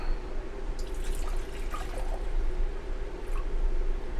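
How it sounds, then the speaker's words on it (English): Water trickles and drips into a container indoors beside a portable power station, a light splashy pour above a steady low hum. "We're going to get us some water."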